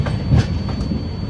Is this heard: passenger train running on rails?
yes